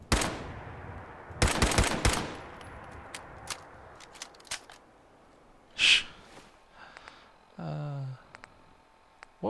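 Several sharp .38 carbine shots from Fallout 4, loud broadband cracks coming in a quick burst early on, then scattered clicks and a later isolated shot, with no talking.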